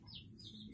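Small bird chirps outdoors, a couple of brief high tweets over a steady low background hum, fairly faint.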